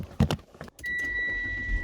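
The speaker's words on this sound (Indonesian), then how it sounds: "sekarang sebelum ini kita coba nyalain dulu mesinnya" A Mitsubishi Xpander Cross engine starts after a few brief clicks and knocks, then settles into a steady idle hum with a faint high whine, close by.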